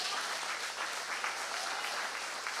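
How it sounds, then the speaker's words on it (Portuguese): A church congregation at a Sunday morning service applauds in a steady, dense wash of clapping. It sounds fairly distant and soft, and no one talks over it. "Aplauda mais uma vez o Senhor."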